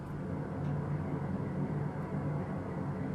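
Steady low background rumble from a highway near a front door, captured on an iPhone as a faint, continuous wash of distant traffic noise with no distinct passing vehicles or voices.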